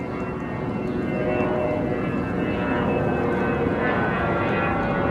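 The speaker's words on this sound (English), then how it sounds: "I hear the airplane." A continuous, broad engine roar of an airplane passes overhead, steady and fairly loud with a slight swelling drone.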